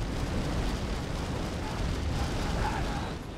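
Barrels exploding in Red Alert produce a dense, rumbling roar of blasts that holds steady at moderate loudness, with no voice over it.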